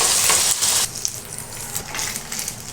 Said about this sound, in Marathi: भाजून घेऊ जास्त कडक पण नाही करायचं असं सुटसुटीत झाल्यानंतर आपल्याला ते काढायचं आहे